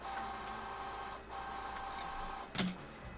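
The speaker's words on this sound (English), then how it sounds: "Now it's out of paper. It's a damn printer." A printer runs with a steady mechanical whir and whine, then lets out a sudden short clunk near the end as it runs out of paper.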